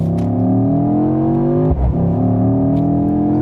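A 2025 Mercedes-AMG GT 63 S E Performance 4-Door revs hard and close, a loud sustained engine roar with rising harmonic sweeps, a brief dip near the middle, then climbing again with no talk over it.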